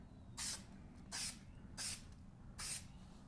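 Four short, evenly spaced bursts of adhesive sprayed from an aerosol can, each about a quarter second long, laid on lightly over a low background rumble in a workshop while fitting parts to a Ford 302 engine bottom end.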